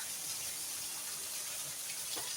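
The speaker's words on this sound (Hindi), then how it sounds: "ये देखो पानी की आवाज़ आ रही है" Steady rushing water flows continuously, a dense even hiss with no pauses, like a nearby stream running alone without voices.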